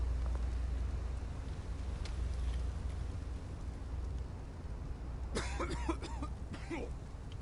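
A character in the Batman: The Telltale Series video game coughs in a short cluster of harsh coughs near the end, over a steady low background hum.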